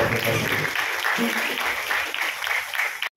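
An audience at a dance day felicitation ceremony claps steadily, dense applause filling the hall at close range and ending abruptly, with voices faintly mixed in.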